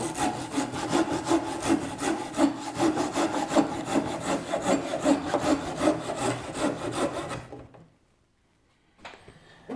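Handsaw cutting wooden table legs to length, a close, loud, steady back-and-forth rasp of rhythmic strokes for about eight seconds before stopping, then faint handling noise.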